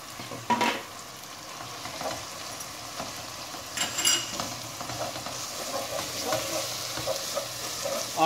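Ground beef, about 200 grams, frying in a pan for an olive-oil green bean dish, with a steady close sizzle and irregular scraping stirs throughout; no talking.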